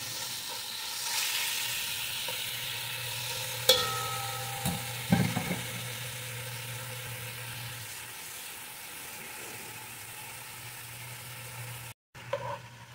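Mixed vegetables browning in a hot pan, a steady sizzle and crackle with a few clinks and scrapes of stirring, close and alone with no talk.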